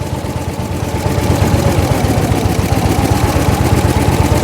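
A 1904 De Dion Bouton veteran car's single engine chugs with a rapid, even pulse as it pulls away in bottom gear, revs rising slightly after the first second; loud, close and continuous.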